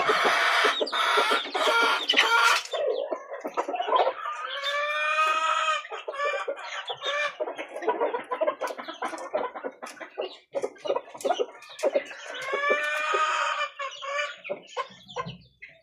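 Backyard chickens and chicks cluck and chirp in a steady, close chorus with repeated bursts of calls, several birds overlapping throughout.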